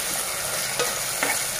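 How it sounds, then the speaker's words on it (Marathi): Tomatoes sauté in a pan for an Agri chicken rassa, giving a dense, close sizzle that runs without a break, with a couple of soft scrapes from stirring. "टॅमॅटो परतून घेऊ"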